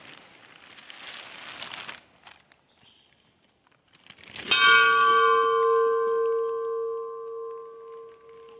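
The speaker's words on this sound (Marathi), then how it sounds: "आपण आता घंटानाद करूया." A temple bell at a village goddess shrine rings once, loud and close, its bright metallic tone ringing out and fading over several seconds after some quiet rustling and footsteps.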